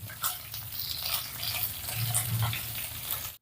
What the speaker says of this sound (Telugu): పచ్చిమిర్చి కూడా వేగాయండి